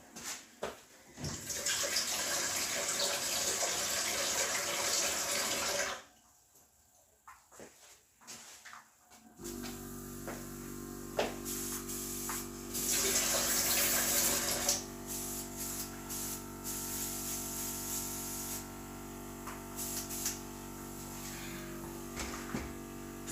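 Water runs loudly from a tap while an airbrush is rinsed out, with hissing bursts broken by a short quieter gap before the flow starts again and keeps going with splashing surges.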